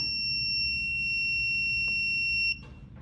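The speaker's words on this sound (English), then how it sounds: "The only way to stop the alarm is to input the password." A piercing high-pitched smart home security alarm buzzer sounds steadily for a few seconds, then cuts off abruptly, leaving faint room noise.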